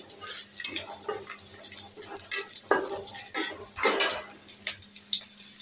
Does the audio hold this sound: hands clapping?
no